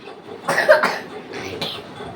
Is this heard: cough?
yes